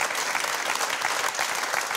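A studio audience applauds steadily at a German television talk show about Turkey, a dense, even wash of many hands clapping that fills the space without pause.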